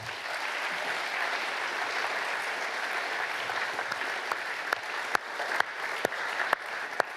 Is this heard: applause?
yes